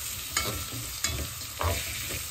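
Chopped carrot and mixed vegetables stirred in a hot pan, a few distinct scraping stirs over a continuous light sizzle, close and without talk.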